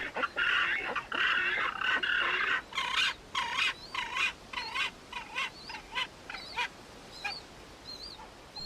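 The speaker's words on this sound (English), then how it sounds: "By now, the chicks know exactly what to expect. They beg noisily for the next banquet." Penguin chicks beg noisily for food with loud, insistent nasal squawks and wavering peeping calls, overlapping in close bursts before thinning into shorter cries.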